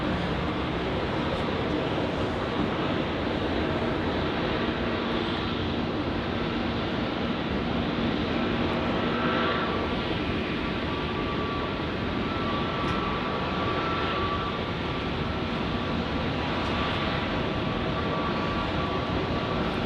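A Philippine Airlines Airbus A321-200 taxis along Alpha toward runway 16 right at Sydney Airport, a steady, dense engine roar held at constant loudness with faint higher whines running through it.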